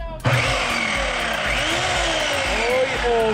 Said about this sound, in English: I put the GoPro on a chainsaw to cut my pumpkin open for Halloween